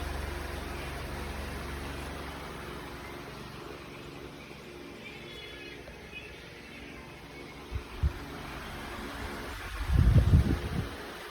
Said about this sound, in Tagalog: At tinesting na rin pala natin dito sa 12 volts na electric fan.